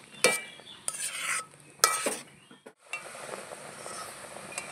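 Raw mango pickle being stirred in a pan after red chilli and turmeric powder go in, with a few loud scraping spoon strokes and clinks against metal, then a softer bubbling sizzle, close up and without talk.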